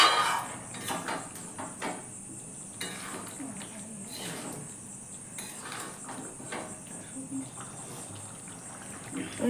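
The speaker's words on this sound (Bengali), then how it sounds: "ঢাকাটা খুলে নিয়ে আবারও একটু নাড়াচাড়া দিয়ে নিচ্ছি" Vegetarian potato curry stirred in a pot after the lid comes off, an irregular run of clinks and scrapes of a utensil against the metal pot over a soft simmer, close and moderately quiet.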